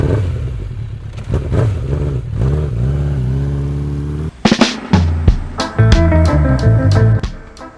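A group of motorcycles, an Indian, a Suzuki Hayabusa and a Kawasaki, ride together with a steady engine drone, then a sharp burst of throttle revs and clattering gear changes, loud and close.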